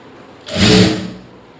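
A single close burst of sewing machine stitching runs a quarter-inch hem on a lining blouse, rising quickly and fading out over about a second.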